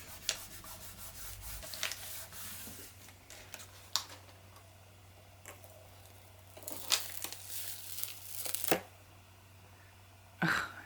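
Paper folded over wet paste and smooshed flat for a three-color textured background, giving close, soft rubbing and crinkling with scattered brief crackles, quiet and without voices.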